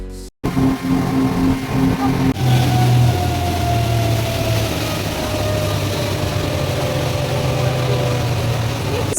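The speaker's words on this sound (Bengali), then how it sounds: "একদম সময় মতো আমরা আমাদের স্পিড বোটে উঠে গেছি" A loud, steady speedboat engine drones throughout, with a low rumble and a rising whine as it picks up speed, near Phuket, Thailand.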